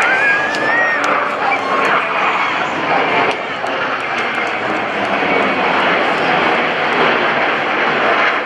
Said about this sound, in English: All 4 aircraft flying as one in this graceful